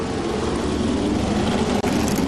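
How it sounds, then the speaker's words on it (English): Can-Am race car engines roar at the Monterey Historics, a loud continuous mechanical drone close at hand with one brief dropout near the end. "Just listen to the sound of these engines."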